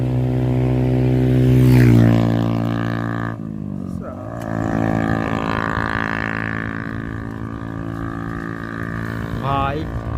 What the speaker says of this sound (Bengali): ফাটা সাইলেন্সার নিয়ে গেল, দেখেছো?